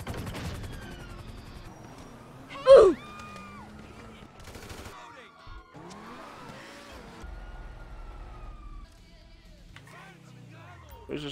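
A race car engine in a video game revs and whines through gear changes, with a sharp loud burst partway through and scattered electronic effects around it.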